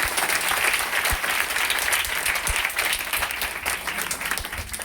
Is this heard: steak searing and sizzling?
no